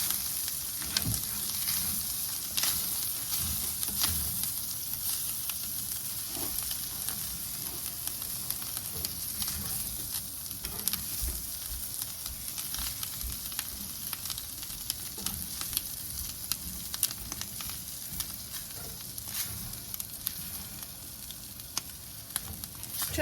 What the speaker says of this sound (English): And then I fry this till it gets brown. I like to brown my flour.